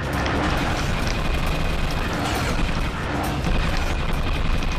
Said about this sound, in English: Mini turret,